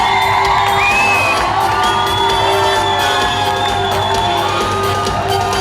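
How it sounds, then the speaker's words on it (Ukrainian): Loud student comedy-contest crowd cheering, whooping and shouting as a team comes on stage, a dense continuous roar with high excited voices throughout. "ви підтримуйте їх бурхливими оплесками"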